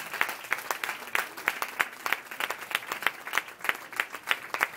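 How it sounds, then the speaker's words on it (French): A church congregation applauding, a steady run of sharp, distinct hand claps at a fairly quick irregular rhythm, moderately close with little talk underneath. "Continuons à l'acclamer, à applaudir le Seigneur pour sa vie."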